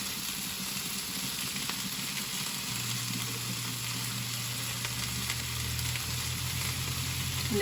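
Chopped onions and mushrooms sautéing together in a pan give a steady, even sizzle with a low hum beneath, continuous and close, with no voices.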